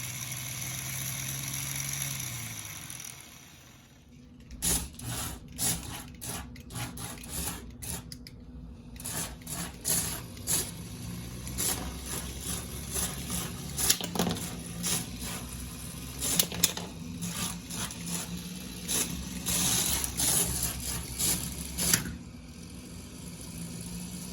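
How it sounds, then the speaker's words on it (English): An electric motor running in a revived project build, a steady mechanical hum with a low tone that shifts pitch early on, followed by a long stretch of rapid rattling and clattering, fairly close. "this motor does work, but it doesn't really hit that hard"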